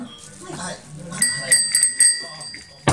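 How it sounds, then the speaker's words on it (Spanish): A small bicycle bell is rung several times in quick, bright dings with some talk around it, ending in a sharper ring. "enséñale a Mauro cómo se debe de tocar la campana"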